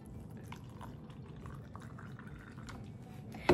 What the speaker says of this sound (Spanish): Agregamos el agua.